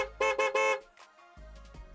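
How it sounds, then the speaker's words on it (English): Car horn blasted in quick bursts in a drive-thru lane, three loud close honks in a row followed by a quieter idling engine and a couple of faint short toots. "she starts laying on the horn like a lunatic"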